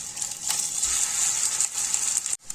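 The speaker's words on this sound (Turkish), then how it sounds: "Kızdırdığımız yağın içine köftelerimizi bırakıyoruz." Meatballs for Turkish wet hamburgers frying in hot oil in a pan, a steady moderate sizzle and crackle that cuts off abruptly near the end, no talking.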